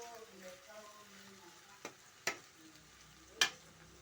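Okra (bendakaya) fries softly in a pan, a faint continuous sizzle with a few sharp clicks of stirring against the pan. A voice is briefly heard.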